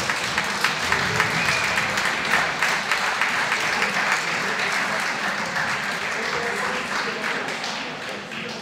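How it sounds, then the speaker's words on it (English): A large audience applauds steadily for the final pair of a negotiation contest in Issoudun, dense broadband clapping that holds strong for several seconds and then eases slightly toward the end. "je vous demande de les applaudir pour cette dernière finale"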